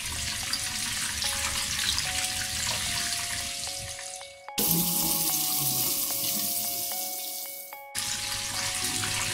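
Chicken fingers frying in hot oil, a steady broad crackling sizzle that cuts out abruptly twice, with faint tonal hum underneath and no speech.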